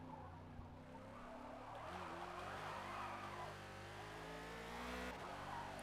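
Car engine in the Forza racing game revving hard near the limit, with tire skid noise layered in, a steady loud drone of harmonic whine sustained throughout with no pauses.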